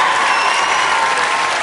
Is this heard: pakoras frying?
no